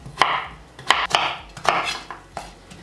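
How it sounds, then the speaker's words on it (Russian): A kitchen knife chops potatoes into small cubes on a board, with about eight crisp, close, uneven strokes. "Картофель нарезаем небольшими кубиками."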